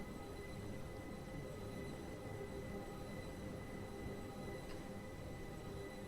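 A Class 456 train in Train Simulator 2015 rumbles along steadily with a low, continuous rolling drone and faint metallic tones, no voices present.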